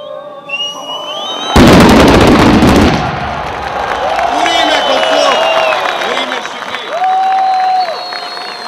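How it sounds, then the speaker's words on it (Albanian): A ceremonial blast in the village of Vërmic near Prizren marks the start of work on the Morine–Merdare motorway: a single sharp explosion cracks out loud, followed by a crowd's murmur, applause and voices. "Me një shpërthim simbolik"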